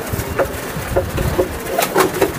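A racing pigeon coos repeatedly, soft low throaty calls recurring every half second or so, close by with light background noise.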